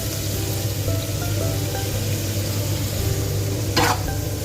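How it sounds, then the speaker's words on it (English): Spices are stirred into ginger garlic paste cooking in a pan, giving a steady sizzle with soft scraping from the stirring and a brief sharper scrape near the end, with no voices. "we'll cook the mixture, mix with the spices"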